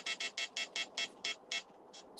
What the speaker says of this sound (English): Sorry about the beeping, guys.